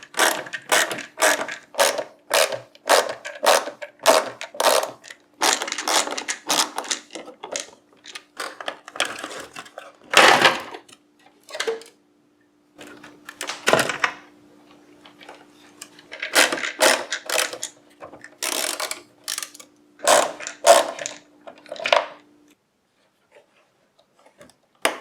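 Torx T15 screws are removed from a DRL LED headlight housing on a 2014 Yukon, Tahoe, Suburban or Escalade, with repeated rapid ratcheting clicks in bursts separated by pauses, close and fairly loud.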